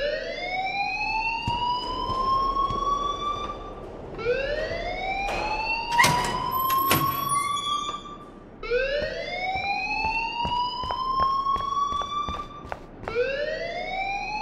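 Alarm siren in a video game, rising repeatedly in long wailing sweeps. Each sweep climbs then holds, with brief gaps between them, loud and steady, with scattered clicks and clatter along the way.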